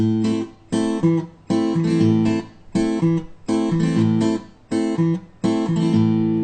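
A guitar played fingerstyle works through the Arabic muksoon rhythm, repeated bursts of strummed and plucked chords with short gaps between them in a steady, lilting pattern, close and alone.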